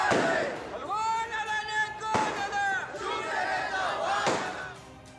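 Celebrating crowd in Sillod cheering loudly and continuously, with shouted voices, sharp bursts and slams punctuating the noisy, dense din.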